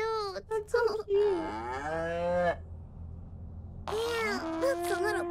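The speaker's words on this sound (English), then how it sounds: "Run for your life, little baby cow." Mooing from a baby cow in the video game Little Misfortune, two drawn-out, wavering bleat-like moos separated by a short quiet gap, loud and close with faint game ambience underneath.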